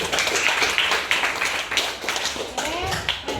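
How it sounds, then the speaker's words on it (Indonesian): Students in a classroom give a round of applause for a classmate, a close, brisk clatter of uneven hand claps with some voices mixed in throughout. "Oke, tepuk tangan untuk Nazilia."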